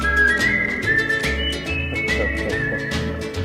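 A melodic whistled tune rides over a country song with a steady beat and bass, the whistle clear and prominent throughout.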